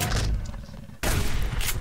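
Shotgun fire in the survival video game Subsistence: two loud, close blasts, the second following a brief pause, each leaving a rumbling tail.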